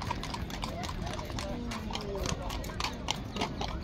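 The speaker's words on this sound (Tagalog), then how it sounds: "Pagka namasyal po yung kabayo galing doon sa sentro, dito rin dumadaan" Horse hooves clip-clop in a steady rhythm along a path in Parque de María Luisa, close by and fairly soft beneath a busy murmur of tourist voices.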